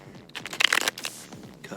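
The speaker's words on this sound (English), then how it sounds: "I'll shuffle on my leg." Tarot cards are shuffled against a leg in a brief, close riffle of papery flutters and scrapes, with faint voice in the background.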